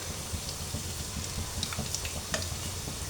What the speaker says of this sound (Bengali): সুজি দিয়ে এটা বানানো পকোড়া, এর জন্য মিডিয়াম তাপে ভাজতে হবে